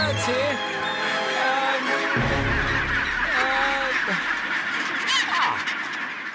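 A dense crowd of birds honks and calls nonstop, many overlapping cries close and loud over a constant din.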